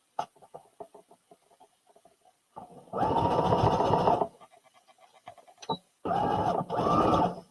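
A sewing machine runs a zigzag stitch while sewing up a Simplicity S9456 pattern, in two steady bursts of about a second and a half each, with soft handling clicks and pauses between them.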